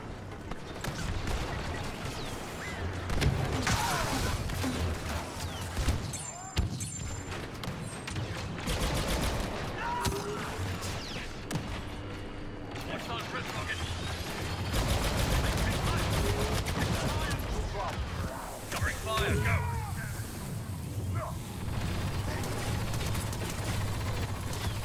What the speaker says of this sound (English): fucking rockets and bombs and grenades and shit